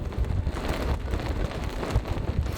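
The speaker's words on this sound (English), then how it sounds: "It is now super windy and starting to rain outside." Strong gusting wind with rain rushing over a boat dock where sailing yachts are tied up, a steady, close, rumbling wash of buffeting air with no one talking.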